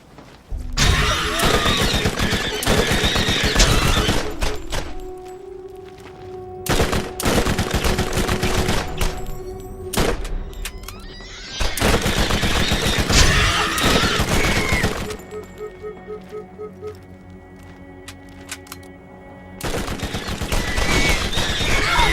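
Rapid bursts of elemental shotgun fire from Borderlands crack in loud clustered volleys with short gaps and ringing game effects between them.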